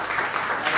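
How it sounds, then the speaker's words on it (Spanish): Church congregation clapping hands together, a brief dense patter of many hands close by. "Démosle palmas al Señor"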